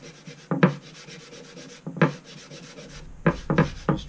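Hand rubbing finish into a mulberry wood cutting board, a close, soft swishing friction with a few louder strokes spaced across the stretch, no voices.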